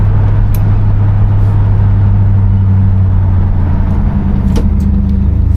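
A 1975 Buick LeSabre driving along with one window down, a steady loud engine drone and road rumble running continuously with wind noise, no talking.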